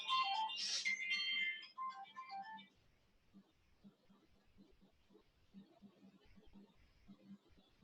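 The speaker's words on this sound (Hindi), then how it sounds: "स्टूडेंट का फोन है।" A student's phone ringtone chimes loudly for about two seconds in a classroom during a physics lesson, then cuts off, leaving faint low murmuring and rustle.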